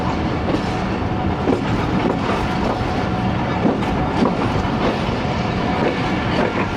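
The 13UP Awam Express rolls slowly into Wazirabad Junction in Pakistan, its wheels giving a loud, steady clickety-clack and rumble heard from on board, with no talk over it.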